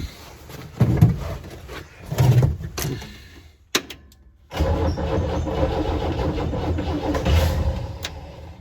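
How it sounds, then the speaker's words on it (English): A 1970 International Scout's 232 straight-six engine, just after a carburetor rebuild, cranks in several rough bursts, stalls briefly, then catches and settles into a steady, loud running rumble close by. "let's see if she fires now"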